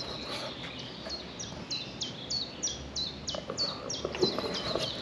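Birds singing outdoors in a green town setting: a repeated series of bright, descending chirps at a steady rhythm, moderately close, over soft ambient outdoor noise.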